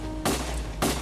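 A gunshot sound effect fires twice, about half a second apart, each a sharp broadband crack with a short decay over a dense background rumble.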